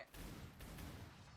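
A volley of gunfire from a firing squad in a video game, a dense roaring blast that rumbles on with a second surge, muffled and quiet overall.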